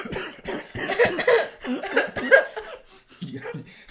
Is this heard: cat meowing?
no